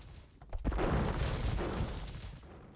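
Cannon galleon ships firing in the video game Age of Empires II, a deep booming blast that rumbles and lingers for a couple of seconds at moderate loudness.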